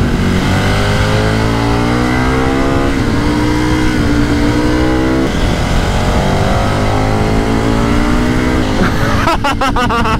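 A KTM motorcycle engine roars loud and close as it leans through a bend on a road near Castelsardo, Sardinia, its pitch rising and falling steadily with wind rush throughout.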